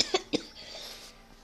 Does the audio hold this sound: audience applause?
no